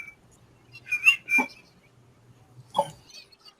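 A short whistling chirp from an Android phone notification, two quick rising tones and then a brief blip, over a quiet low hum.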